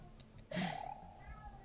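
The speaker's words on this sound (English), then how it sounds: "Please excuse the cats in the background." A cat in the background gives one clear meow that rises and then falls, heard quietly over a low room hum during a Super Mario 64 tournament commentary.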